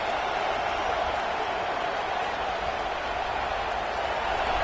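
Stadium crowd noise at a football game, a sustained, loud, dense roar of cheering fans building for a defensive red zone stand, steady throughout with no clear pauses.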